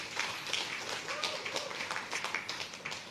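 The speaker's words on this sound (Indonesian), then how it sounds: "Tepuk tangan untuk Tuhan." A church congregation clapping: a dense, continuous wash of many hands applauding in a large room, with voices and shouting mixed in throughout.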